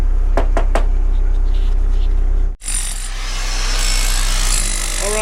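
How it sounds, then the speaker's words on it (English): A hammer drill chisels out concrete in a leaking ICF basement wall during a repair. A few sharp knocks come first, then a loud, close, continuous rattling hammer runs without pause to the end. "Matt's going to hook up the hammer drill and go to Chiseltown here a little bit"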